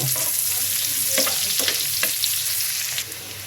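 Chopped onions frying in a pan give off a dense, continuous sizzle, with a few soft stirring scrapes and no talking.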